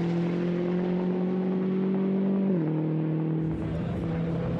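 Volkswagen Scirocco race car with a natural gas engine in Gran Turismo 5 at the Nürburgring 24-hour race, a steady loud engine drone holding one pitch, then dropping slightly as it shifts.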